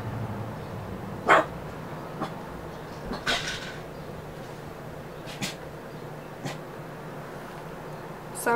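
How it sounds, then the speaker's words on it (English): Dogs in a home bark in a few short, separated bursts across several seconds, sounding somewhat distant and moderately loud against a quiet room background. "Sorry about the dogs."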